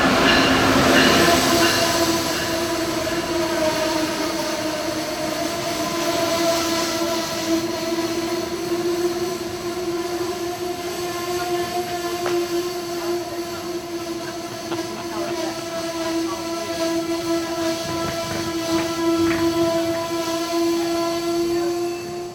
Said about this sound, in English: Then up came a northbound Amtrak Regional,